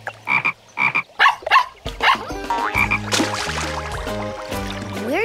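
A cartoon frog gives four quick, loud croaks in a choppy rhythm, then a bright musical flourish takes over and fills the rest.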